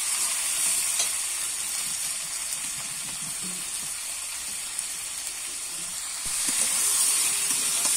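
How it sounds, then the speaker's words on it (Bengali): Potatoes, beans and brinjal fry in a pan with a constant, dense sizzling hiss. The hiss swells slightly as the vegetables are stirred, with no talking. "একটু নেড়ে চেড়ে আবার একটু ভাজা ভাজা করে নেব।"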